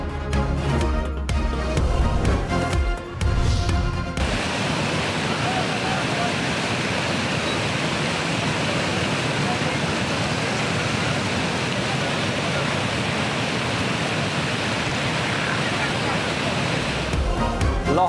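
Heavy monsoon rain and rushing water on flooded streets, a dense continuous roar lasting most of the clip, with a voice speaking over other sound at the start.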